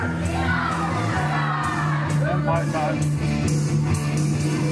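A wrestling show crowd roars and cheers continuously, with shouts and whoops rising above the dense noise while an announcer's voice talks over it.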